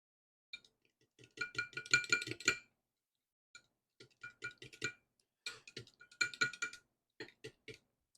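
Bait paint mixture is stirred in a small container, producing quiet bursts of rapid clinking and ticking taps in short runs separated by pauses.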